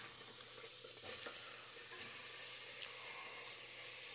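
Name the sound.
onions frying in a pan for biryani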